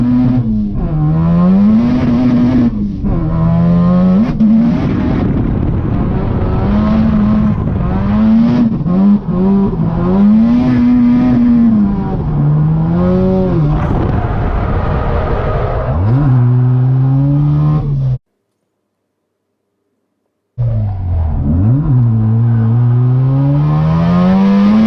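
Drift car on a solo run at Sonoma Drift, the engine loud and close with repeated revs rising and falling plus tire noise. It cuts out briefly to silence near the end, then the revving resumes.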